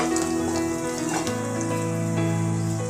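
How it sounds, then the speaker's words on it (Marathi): Red chilli powder, turmeric and salt sizzle steadily as they are sautéed in a pan for a spicy tomato chutney, with a continuous close frying crackle and an underlying hum, no talking. "लाल तिखट अर्धा चम्मच हळद मीठ हे चांगलं परतून घ्यायचं"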